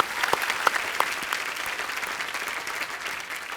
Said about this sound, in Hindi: इनके लिए पहले तो जोरदार तालियां हो जाए